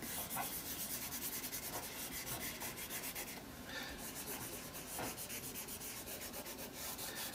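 Soft, steady rubbing of a palm across a paper napkin to smooth out its creases, a continuous close brushing texture with gentle repeated strokes and no voices.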